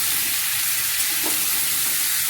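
Chickpeas frying in a pan for a pumpkin curry, a dense continuous sizzle close and loud, with a faint stirring scrape partway through.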